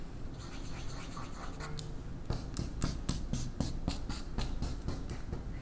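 A pen scratches across paper while electrons are drawn onto a Bohr-Rutherford diagram: soft continuous scribbling that breaks into a quick series of short, rhythmic strokes, close and quiet, with no voices.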